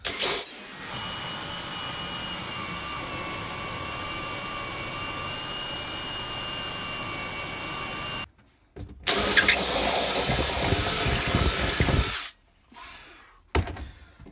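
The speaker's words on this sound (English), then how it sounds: "So that's the hole drilled out now." A power drill bores through a handmade coastal foraging hook, a sustained whining motor run, a short pause, then a louder burst of drilling before stopping.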